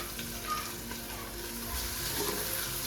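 Fresh spinach (palak) goes into a hot pan while daal and palak is being cooked, raising a dense, continuous close sizzle and frying hiss that holds steady throughout, with no talking.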